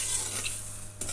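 Tempering for drumstick pickle frying in a pan on a lit stove gives a steady, close sizzle with a soft hiss throughout and a brief stir or clink near the end.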